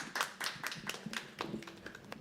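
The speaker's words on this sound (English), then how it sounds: "Keep clapping till she comes on stage." At a live poetry open mic, a small audience claps for a performer coming on stage. The distinct, fairly close claps come in uneven bursts and stay modest in volume.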